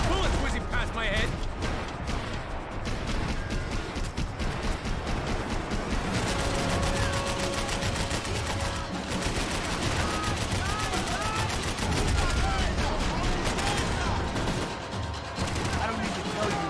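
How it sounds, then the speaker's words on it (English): Gunfire and bullets whizzing by in Max Payne 3, a dense, loud stretch of shots and impacts running throughout amid game noise and voices. "I can't concentrate with bullets whizzing past my head."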